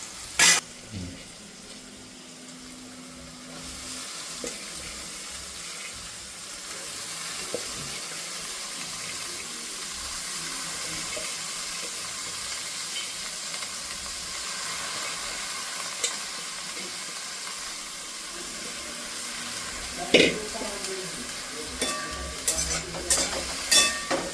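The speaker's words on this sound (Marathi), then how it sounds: "आपण मटकी परतून घेणार आहोत" Moth beans (matki) with salt and turmeric sauté in a pan for a Marathi matki amti. A soft, continuous hiss runs throughout, with a few scraping clinks near the start and again toward the end, no voices.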